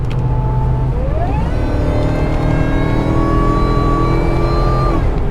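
A supercharged car engine climbs loudly through the revs as it accelerates onto a highway, a close, steady rising whine over a deep roar with no break.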